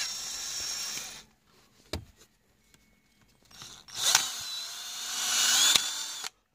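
Cordless drill run in bursts: a high whirring spin that stops, a short click, then a rising whine that speeds up and cuts off, close and loud with quiet gaps between.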